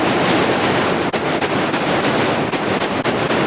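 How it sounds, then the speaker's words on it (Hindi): Broadband, steady roar of fast-flowing water rushing down from Saif-ul-Malook lake in the Kaghan-Naran valley during rain, loud and close, continuous with slight surges and no voices. "ये वही झील सैफुल मलूक से ही आ रहा है पानी।"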